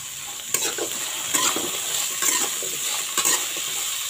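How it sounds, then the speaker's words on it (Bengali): Cauliflower and carrot fry steadily in a pan, giving a continuous close sizzle with a few brief stirring scrapes and clatters, no talking. "ততক্ষণ এইটা ভাজা হোক।"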